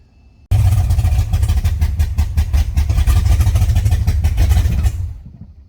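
A Fox body car engine running on its first start in 18 years, with no radiator or belt fitted, roars loudly and steadily for about four and a half seconds with a rough, pulsing idle before cutting off.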